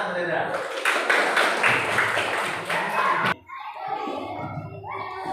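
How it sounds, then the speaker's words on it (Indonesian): A primary school classroom claps together for a student in a quick, even rhythm for about three seconds. The clapping stops abruptly, then children's voices and chatter follow. "Tepuk tangan, Hendra."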